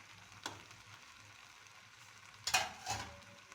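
Chicken biryani masala is stirred in a pan, probably a pressure cooker, with a faint background sizzle and a few short scraping strokes of a spoon against the metal.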